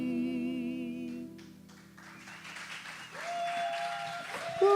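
Crowd applause at a live wine bar event breaks out after a stretch of music, with scattered clapping building into steady moderate applause while voices murmur underneath.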